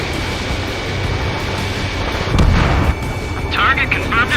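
In the Ace Combat 7 flight game, a missile launches and explodes in a heavy, rumbling boom midway through, over steady jet noise, while radio voices talk throughout.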